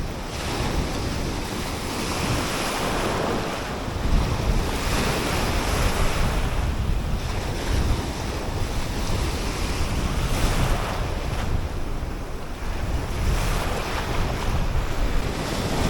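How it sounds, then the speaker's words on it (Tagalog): Large ocean waves crash and surge continuously along the shore where people are fishing, a loud, broad roar with wind buffeting the microphone and periodic swells building and breaking. "ang lalaki talaga ng mga alon"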